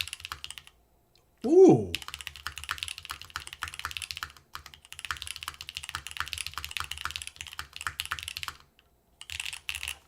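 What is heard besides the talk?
typing on Osidian TKL V2 stone mechanical keyboard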